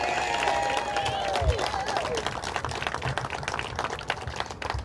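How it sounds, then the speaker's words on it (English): Applause at a road designation ceremony, scattered clapping from a crowd rising under a brief tone and voices, continuing as a moderate patter with some chatter. "How about a great round of applause for the woman that actually made this happen?"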